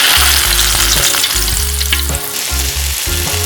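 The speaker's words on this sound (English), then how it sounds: "Heat a pan with a large amount of cooking oil. Drop the fish into the pan." Whole fish dropped into a pan of deep, hot cooking oil, frying loud and close with a continuous crackling sizzle and dense spitting pops, accompanied by low rhythmic bursts from a steady cooking rhythm.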